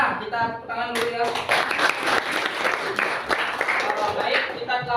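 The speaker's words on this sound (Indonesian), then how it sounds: "Ini anak-anak ya, kita tepuk tangan dulu ya." Children in a classroom clapping along in a lively, fairly loud run of claps, mixed with voices talking over it.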